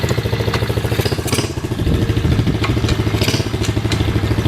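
A Mini Trail HSX 110 manual motorcycle's small engine thrums steadily up close during a test ride, with mechanical clatter and slight rises in revs as it runs.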